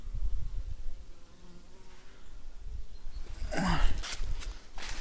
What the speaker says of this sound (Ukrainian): Бджілки звідкись летять